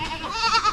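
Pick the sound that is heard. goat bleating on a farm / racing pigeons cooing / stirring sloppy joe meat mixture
goat bleating on a farm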